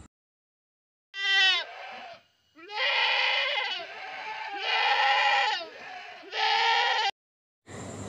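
A young goat bleats several times in a row, loud and close, with short pauses between the wavering cries.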